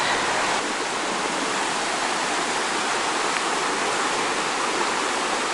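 Fast-running floodwater rushing through the Lake Tahoma dam, a steady, loud, broadband roar of churning water that continues unbroken with no speech.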